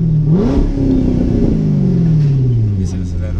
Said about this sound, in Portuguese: Vamos dar uma aceleradinha pra ver se ele acelera também.